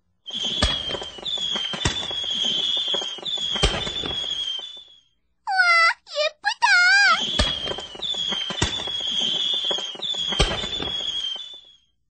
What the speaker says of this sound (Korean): 오늘 우리는 불꽃놀이 구경한다.